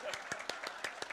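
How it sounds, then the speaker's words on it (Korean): Claps ring out in a church congregation as people stand to welcome a missionary visiting from Morocco, about seven distinct claps spaced unevenly across a short moment, fairly near and moderately loud over a soft room murmur. "여러분들께 박수 드립니다."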